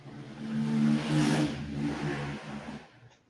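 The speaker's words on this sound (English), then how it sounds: "That's a motorbike going by" A motorbike passes nearby, its engine rising to a loud, steady drone for about three seconds before fading away at the end; no voices are heard over it.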